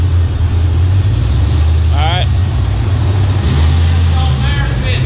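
A supercharged Cadillac CTS-V pulls slowly into a shop, its engine rumbling low and steady up close, with people talking over it.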